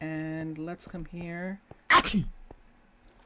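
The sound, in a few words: sneeze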